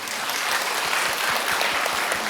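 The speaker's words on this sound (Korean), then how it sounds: "박수 한번 쳐주세요." Steady audience applause from a church congregation at a Sunday afternoon service, dense continuous clapping filling the room with no voices over it.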